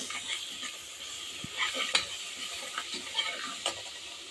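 Asafoetida sizzles in hot oil in a pan, a soft steady crackle broken by light scraping and ticking from stirring, close and fairly quiet with no speech.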